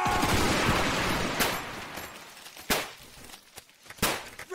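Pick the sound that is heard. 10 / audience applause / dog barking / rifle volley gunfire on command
rifle volley gunfire on command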